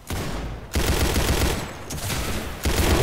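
Rapid pistol gunfire in the Roblox shooter Arsenal, a dense run of close, loud shots in two bursts separated by a short gap, with no talking.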